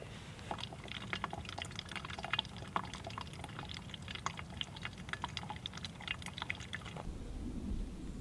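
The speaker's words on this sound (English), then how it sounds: "I'm going to filter my liter of water" Water filtered by hand at a winter backpacking camp on Arkansas's Buffalo River, a liter trickling and pouring with irregular clicking drips, close and steady for about seven seconds before tapering off.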